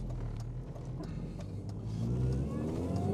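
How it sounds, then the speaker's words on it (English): A Mini's engine idles while warming up, a low, steady hum at moderate distance that swells slightly toward the end, with no talk over it. "Yeah, I need to let the car warm up."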